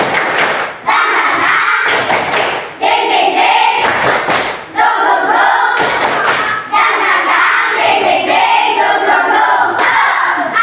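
A classroom of students performs the 'tepuk semangat' clap chant, sharp rhythmic bursts of group clapping and thumps in a set pattern alternating with shouted chanting voices, loud and close, with brief pauses between phrases.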